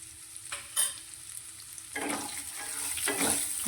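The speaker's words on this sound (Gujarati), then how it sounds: "ડુંગળીને સારી રીતે સંતળાવવા દઈશું" Onions sizzle in hot oil with a soft constant hiss, broken by a few scraping stirs of a spoon; close and moderately quiet, no talking.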